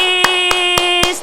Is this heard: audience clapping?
yes